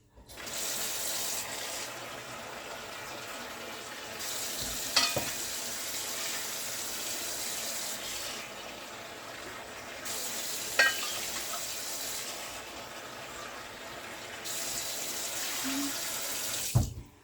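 Tap water runs steadily into a pot being filled with three cups of water for cooking quick five-minute rice, a continuous rushing stream with a few brief clinks.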